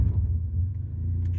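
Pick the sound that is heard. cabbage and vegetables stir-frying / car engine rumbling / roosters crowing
car engine rumbling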